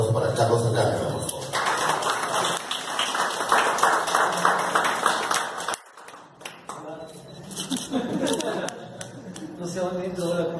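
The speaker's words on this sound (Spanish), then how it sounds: "Un fuerte aplauso para Carlos Alcántara" A crowd claps for Carlos Alcántara at a film trailer press conference, with steady applause and camera clicks. Crowd chatter and voices run through the whole stretch, and the clapping dips partway and then resumes.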